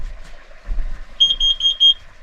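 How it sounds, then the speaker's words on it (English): A combined smoke alarm and carbon monoxide sensor beeps in a rapid series of shrill high pips during an overnight bush trip, over faint low rumbling background noise. "I just had to open the back door because the monoxide sensor went off."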